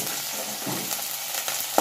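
Onion, green chili and curry leaves sizzling in hot oil with asafoetida for a Tamil lunch kuzhambu, a close, bright crackling sizzle with stirring, lasting under two seconds.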